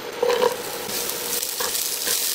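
Chopped onion sizzles and is stirred in hot oil in a pan after shrimp for a Filipino pancit dish, with a steady fry and scraping strokes of the spatula, loud and close.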